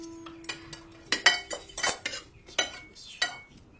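Metal fork and spoon clink and scrape against plates during a meal of herbed rice with fish, a series of bright, close taps and chinks in an irregular rhythm with no talking.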